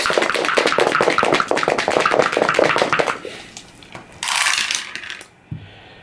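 Dice clattering down through a dice tower during a Pandemic: Fall of Rome board game, a rapid rattling cascade of hard clicks for about three seconds, then a few settling taps and a short rustle, no talk.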